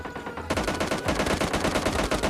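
Rapid bursts of gunfire in the PUBG Mobile Lite game, loud dense rattling shots firing continuously and close, after a brief quieter moment at the start.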